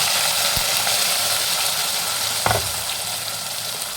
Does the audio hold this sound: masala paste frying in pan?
yes